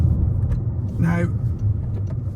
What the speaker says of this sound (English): the drone from the drivetrain